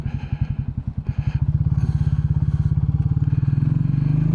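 Royal Enfield Bullet 350 motorcycle thumping along, its single-cylinder engine giving a loud, steady, rhythmic beat that quickens and evens out as it pulls away, close by.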